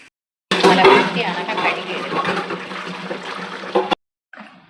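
Water is poured off from a kitchen vessel holding freshly cut pieces in one continuous rushing, splashing stream lasting a few seconds, then stopping abruptly.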